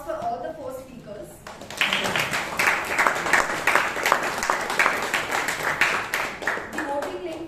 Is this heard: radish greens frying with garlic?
no